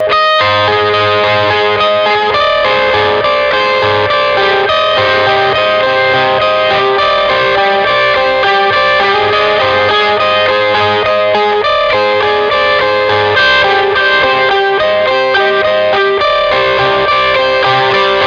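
Electric guitar with delay plays ringing broken chords with an echoing tone, notes overlapping and trailing into a full, continuous wash of sound.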